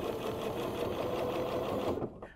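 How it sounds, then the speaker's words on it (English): A machine quilting setup stitches a crosshatch design along a straight ruler, its motor running in a steady, close, rapid chatter that cuts off just before the end. "So I've repositioned my ruler and stitched back across."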